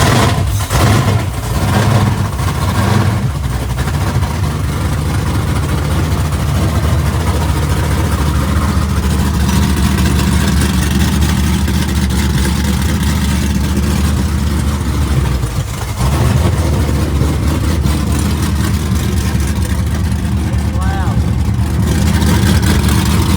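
An LS V8-swapped Chevy S10 pickup with long tube headers idles steadily and loudly close by, a deep continuous engine drone with a brief revving blip near the start and a dip about two-thirds through; voices are heard nearby.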